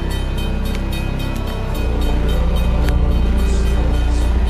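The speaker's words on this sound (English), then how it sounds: "let's get on this train. Oh, listen to it." A train rumbling loudly nearby, heard from aboard, a steady heavy mechanical drone that swells and grows rougher partway through.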